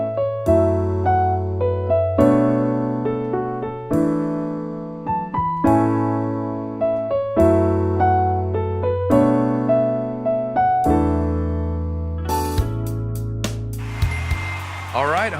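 Solo piano plays the intro of a song in an intermediate-level arrangement, with steady sustained chords and a moving melody, close and clear, ending on a low struck chord.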